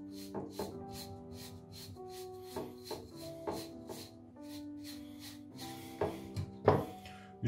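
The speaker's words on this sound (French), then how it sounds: "vous peignez la barbe, vous brossez la barbe" A brush is stroked repeatedly through a beard, making soft, rhythmic scratchy swipes over steady background tones.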